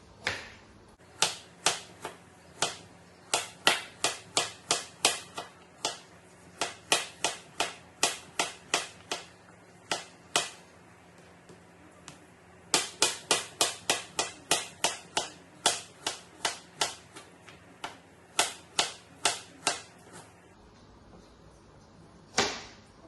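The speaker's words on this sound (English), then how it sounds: "After you've peeled your carrots, we're going to dice them into about 2 centimetre circular pieces." A knife dices peeled carrots into circular pieces on a cutting board, sharp crisp chops coming in quick irregular runs of many strikes with brief pauses, close and alone.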